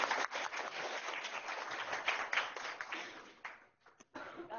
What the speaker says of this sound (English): can we all give a warm welcome and round of applause to Dr. Gary Pickering